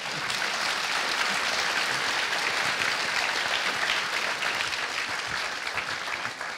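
Applause from a small studio audience at a Hungarian talk show, a steady patter of clapping that holds evenly for several seconds without voices.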